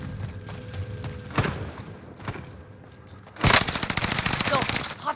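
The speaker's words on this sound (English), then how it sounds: "Oh, he's heard the shots." Gunfire in a first-person shooter video game: rapid automatic bursts and single shots, with a loud sustained burst of fire near the end over faint background game sounds.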